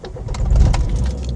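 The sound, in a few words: Skoda Octavia engine starting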